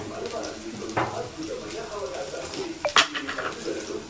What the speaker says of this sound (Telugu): పచ్చిమిరపకాయలు మనము కొంచెం గోల్డెన్ కలర్ వచ్చేంత వరకు ఫ్రై చేసుకుందాం